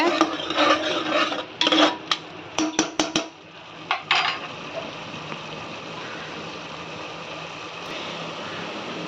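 A tomato paste mixture being stirred in a pan, with a run of scraping and clattering utensil strokes against the metal early on, then fading to a quieter steady background.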